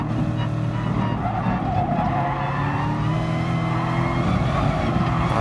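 A Volkswagen Beetle race car in Gran Turismo Sport squeals its tires under hard braking, a sustained close skid over the steady roar of engines throughout.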